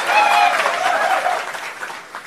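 Crowd applause at Deputy CM Pawan Kalyan's public speech in Pitapuram, a dense, steady wash of clapping from a large audience that fades slightly toward the end.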